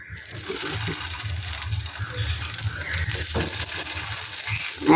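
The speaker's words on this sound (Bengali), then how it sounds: "একদম হালকা করে একটু ভেজে নিচ্ছি" Food fries lightly in a pan with a soft, steady sizzle. It holds at a constant level and is heard on its own, with no talking.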